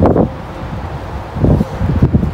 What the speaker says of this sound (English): It's so windy and I kinda hate it